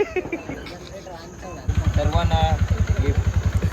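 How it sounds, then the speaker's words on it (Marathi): A tractor's diesel engine starts up and settles into a loud, rhythmic chugging idle nearby, with faint voices before it kicks in. "अरे ट्रॅक्टर चालू आलं झालं लगेच"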